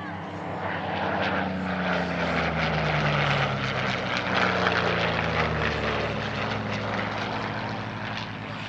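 A P-40N5 propeller fighter flying at the Air Legend airshow in Paris-Villaroche, a loud, throaty engine roar that rises and falls in pitch as it passes close by.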